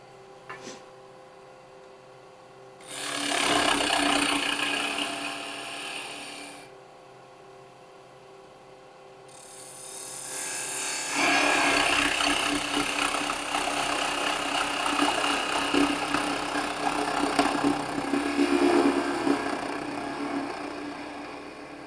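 A poplar wood spinning top turning on a lathe, with bursts of cutting noise that start and stop, then settle into a longer steady stretch of cutting over the motor's hum, with no talking.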